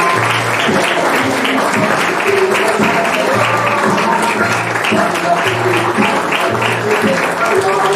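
A school audience of families and teachers applauds graduates in a loud, continuous wash of clapping, with short low musical notes pulsing beneath the crowd throughout.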